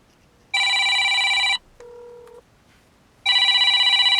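A phone rings from an incoming call, two loud electronic trill bursts separated by a softer two-tone beep, close and alone with no talking.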